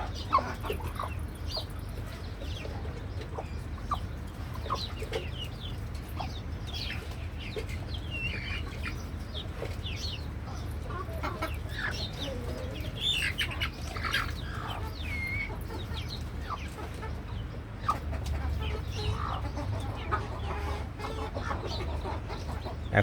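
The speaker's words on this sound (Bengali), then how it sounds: "মুরগিটা বড় আছে, পশম সব আছে।" Hens cluck steadily on a rooftop farm, several birds calling close by in scattered bursts over a constant low hum, with no talk.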